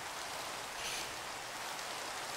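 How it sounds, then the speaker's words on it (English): Rainfall in the Minecraft video game: a continuous, even hiss of pattering rain, moderately quiet and unbroken, with no voices. "This rain needs to go away."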